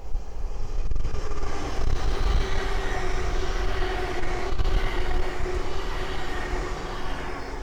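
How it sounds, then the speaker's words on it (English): A Hull Trains Class 802 bi-mode passenger train rumbles past nearby at sedate speed on the East Coast Main Line, with a steady, loud engine drone and low-frequency roar, holding constant throughout with no voices. "we have a Hull Trains 802 passing through"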